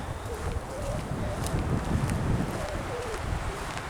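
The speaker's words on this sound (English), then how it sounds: "you can really hear the pines whispering in the wind" Wind blowing through pine trees along horse trails and fire roads, a steady broad rushing hiss with soft rustling that holds fairly even and moderately loud throughout.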